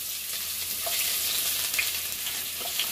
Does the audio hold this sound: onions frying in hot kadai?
yes